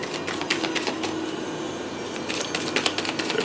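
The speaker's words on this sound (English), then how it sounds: "I always like to do a little extra shuffle." Tarot cards are shuffled close by, giving a continuous rapid riffling and clicking texture with small bursts of flicks, with no voices over it.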